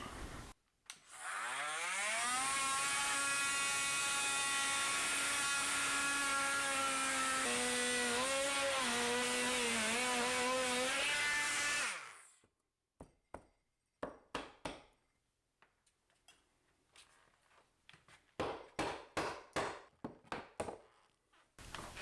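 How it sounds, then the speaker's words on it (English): Oscillating saw cutting through wood wall framing while venting an over-the-range microwave outside, a loud sustained whine for about ten seconds that wavers in pitch, then stops, followed by scattered knocks and clatter. "So I'm gonna use the oscillating saw."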